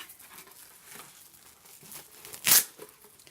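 Plastic wrap crinkles and crumples softly with a scattering of small rustles, then one sharp, louder crackle near the end before the rustling fades again.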